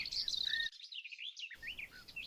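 Morning birdsong in an old forest, with a goldfinch among the singers: bright, high, rapid chirps and twitters, fairly faint, with a brief silent break in the middle.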